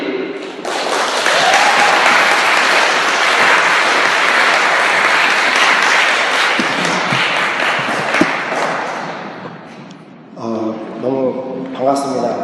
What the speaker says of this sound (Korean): 우리 손준 전사님 나오실 때 우리 박수로 우리 맞아주시면 좋겠습니다